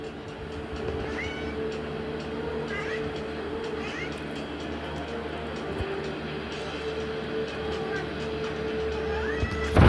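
A cat meows several times in short rising calls over a steady background hum and low rumble, with faint talk nearby.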